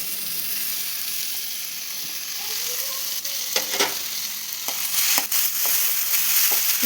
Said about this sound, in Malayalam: ഇതൊക്കെ ഒന്ന് നന്നായി വഴറ്റിയെടുക്കുക